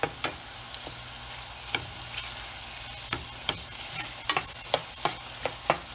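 Tomatoes fry in oil for spicy potato aloo tarkari while a utensil stirs them steadily, with crisp repeated scraping clicks over a constant close sizzle and no voices.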